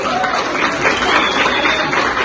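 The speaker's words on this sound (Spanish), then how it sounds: "aplauso para ellos" A crowd at a gathering of Ngäbe-Buglé and campesino movement members in Panama applauds loudly and close by, with dense, continuous clapping held for a couple of seconds under a faint murmur of voices.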